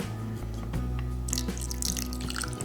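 Apple cider vinegar poured into a cauliflower salad, giving a soft, close trickling splash that builds over a couple of seconds against a faint steady background hum.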